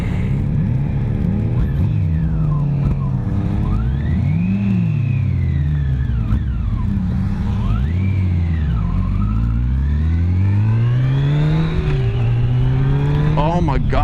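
A Yamaha motorcycle, an FJR or FZ-10 in sport mode, accelerates hard through several gears, its engine note rising and dropping with each shift, loud and close under wind rush.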